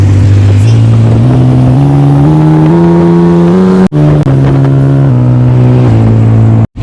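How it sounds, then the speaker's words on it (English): A tuk-tuk engine in Bangkok revs hard and close, climbing through stepped gear changes with two abrupt cut-offs before pulling again, loud and alone. "So we ditched the cab and sat in this tuk-tuk."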